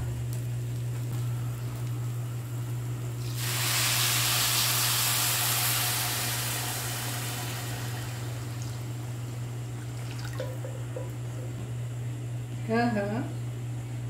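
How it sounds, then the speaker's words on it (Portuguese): A steady, loud hiss of steam venting from a pressure cooker cooking beans, rising for a few seconds over a constant low hum, with faint kitchen sounds after. "na panela de pressão, ó, tá cozinhando feijão"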